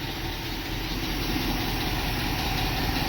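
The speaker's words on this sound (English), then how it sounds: "Sits here in idle, it's like a brand new rig." An International Scout engine idles steadily after rebuild, a continuous close, even low rumble with no voices over it.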